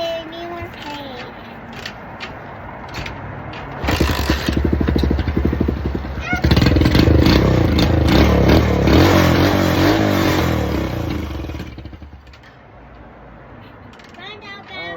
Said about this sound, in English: So we're going to try to get her started.